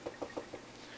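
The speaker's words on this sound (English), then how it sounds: "Should I knock on wood?" A knuckle raps wood several times in a quick, uneven run of soft knocks, close but fairly quiet, with no talk over them.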